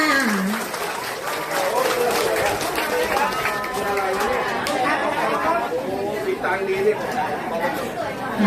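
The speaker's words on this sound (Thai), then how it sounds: "ปรบมือให้ท่านอีกสักครั้งหนึ่งค่ะ" Villagers affected by a landslide in Sawankhalok, Sukhothai clap for a visiting health minister, scattered hand claps running under lively overlapping chatter and voices from a crowd outdoors.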